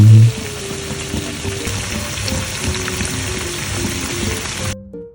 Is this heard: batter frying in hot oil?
yes